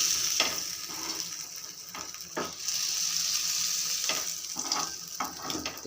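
Bombay duck (bombil) fish frying in hot oil, a steady bright sizzle with bursts of spattering and a few stirring knocks, close and alone.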